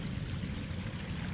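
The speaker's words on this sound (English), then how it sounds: "We have our own little creek in the corner" Rainwater runs like a small creek through the corner of a flooded yard, a steady broadband rushing and gurgling that stays close and constant through the short stretch, with no voices.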